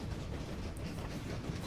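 A train in the railway-building game Train Valley gives a steady low rumble that keeps an even loudness throughout the short span.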